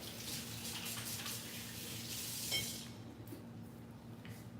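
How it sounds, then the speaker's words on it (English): A kitchen tap runs steadily as hands are washed beneath it, a soft continuous splashing hiss at moderate distance that eases off toward the end. "I'm gonna wash my hands"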